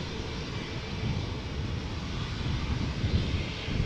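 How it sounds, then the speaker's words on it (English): An Airbus A220, the former Bombardier C Series, in Estonian flag livery at Amsterdam Schiphol, produces a close jet engine roar that swells slightly as it goes, alone without voices. "It is an A220, or as it is also was known, Bombardier C series."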